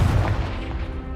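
A short, punchy fire-blast from the Confringo spell in Hogwarts Legacy, a loud low boom with a quick crackling tail lasting about a second.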